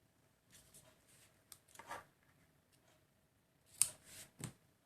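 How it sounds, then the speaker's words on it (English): Scissors snip the tails of a ribbon bow on a handmade floral bouquet card: a few soft, close cuts spaced apart, with quiet rustling between them. "And trim our tails down."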